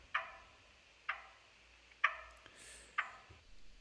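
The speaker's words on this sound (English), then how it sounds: "I dragged in a ticking clock that I recorded with my test cam" A ticking clock recorded as a sound sample, four sharp, evenly spaced ticks about a second apart, close and clear against a quiet background.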